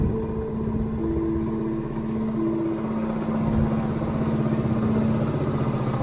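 A small motorbike engine runs steadily nearby with a droning, slightly clattering hum and sustained tonal whine, no speech over it.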